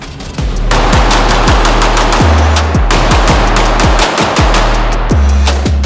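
Rapid pistol gunshots from a Taran Tactical handgun crack out in a quick, loud string of about a dozen sharp reports with short pauses between strings, close by.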